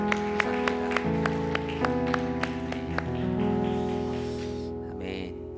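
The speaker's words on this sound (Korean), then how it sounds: "우리 하나님께 더 큰 감사의 박수." At a Korean Parents' Day Sunday service, a church congregation claps in thanks to God. Rhythmic claps sound over sustained keyboard or organ chords, then thin out and fade while the music carries on.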